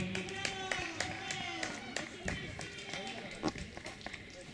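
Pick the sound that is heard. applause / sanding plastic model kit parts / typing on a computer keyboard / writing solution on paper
applause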